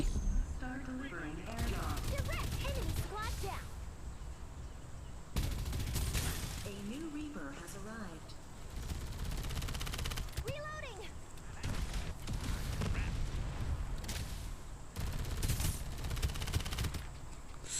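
Gunfire in the mobile battle-royale game Farlight 84, rapid bursts of automatic shots that come and go in clusters across the stretch, with in-game sound effects and a few whistling tones mixed between the volleys.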